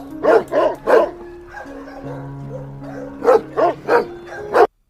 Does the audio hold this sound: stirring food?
no